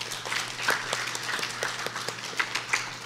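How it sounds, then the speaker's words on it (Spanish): An audience applauds at a legal competition awards ceremony, a moderate, fairly distant patter of many hands clapping continuously with a few sharper individual claps standing out. "Aplausos para ellos, por favor."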